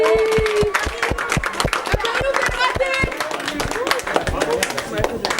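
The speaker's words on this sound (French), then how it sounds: "Allez, applaudissez." A small audience claps in a brief, fairly dense round of applause at close range, with sharp individual claps standing out and voices overlapping throughout.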